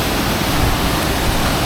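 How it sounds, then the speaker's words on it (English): A waterfall at Harmby in Yorkshire cascades down rocks, a loud, continuous broadband rush of falling water heard close by, with no voices. "looking pretty much straight on at the actual waterfall as it cascades down the rocks there"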